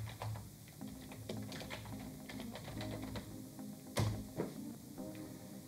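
Quiet, close keystrokes on a computer keyboard as a terminal command is typed into a Raspberry Pi setup, an uneven run of clicks with one louder key tap near the end.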